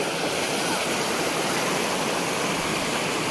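Steady rushing water pours into a pond during a traditional public Ganpati immersion in Konkan, a loud continuous broadband gush with no pauses and no clear talk over it.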